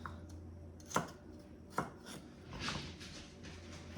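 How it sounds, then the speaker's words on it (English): Celery and carrots being chopped with a knife on a cutting board: three sharp, fairly close chops spaced about a second apart, then softer scraping, with no talking. "So we are just going to keep chopping and chopping."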